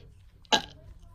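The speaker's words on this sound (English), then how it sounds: "He just burped." A single short burp pops out abruptly in a quiet moment, loud and close, lasting a fraction of a second.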